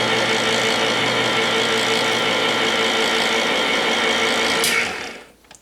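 An electric can opener cutting around a can, a loud steady motor whir that runs unbroken for nearly five seconds, then stops abruptly as the lever lifts.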